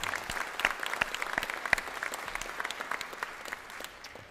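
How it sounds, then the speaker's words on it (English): Audience applause at a Folsom Lake College fall convocation, steady clapping from the crowd with a few sharper individual claps standing out near the front before it tapers off. "I think you really should give yourself a round of applause"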